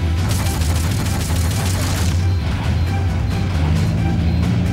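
Gunfire in the video game Metal Gear Solid Peace Walker, a rapid loud fusillade of repeated shots over a deep rumbling bed, the bursts thinning slightly toward the end.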